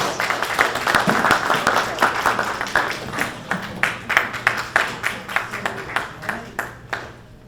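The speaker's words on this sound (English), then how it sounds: "A round of applause would be nice." An audience claps steadily, a dense ragged patter of many hands that tapers into more distinct, separate claps toward the end.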